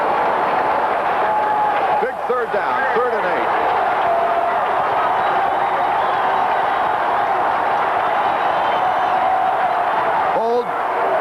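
A dense stadium crowd roars steadily at the 1984 South Carolina at Clemson college football game, a constant wash of noise under a play-by-play announcer talking throughout.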